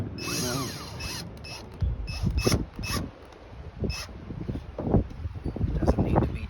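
Small screw being driven into the plastic reverse light housing of a 1997 Dodge Ram 1500, giving a run of close, ratcheting clicks and creaks with a few sharper taps, alone without talk.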